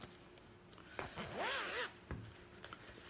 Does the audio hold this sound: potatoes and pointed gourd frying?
no